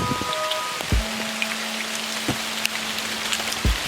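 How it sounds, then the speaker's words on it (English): Heavy rain falling hard and steadily onto a shed roof and surfaces during a daylong downpour. Dense, loud patter fills the whole scene, with scattered sharper drip hits and a faint steady hum beneath it. "it's raining hard"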